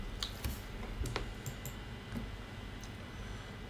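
Sparse computer mouse clicks, a handful of light, sharp taps at irregular intervals over quiet room hiss, close and faint.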